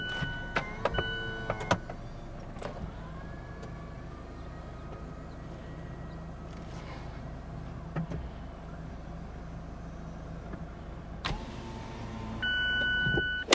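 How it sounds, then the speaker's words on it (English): Power retractable hardtop of a 2023 Mazda MX-5 Miata RF GT opening, a steady electric motor whir with mechanical clunks and beeps at the start and end, heard from inside the car. "let me roll the roof down and I can show you what it looks like open."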